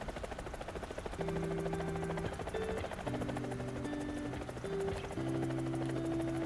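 A helicopter flies in a realistic combat video game that also has tanks, planes, ships and mech suits. A steady, loud rotor and engine drone runs throughout, layered with sustained tonal hums.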